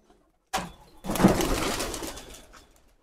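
Pigeons coo inside their loft in a few soft, close calls that swell after a brief rustle, then fade out over about two seconds.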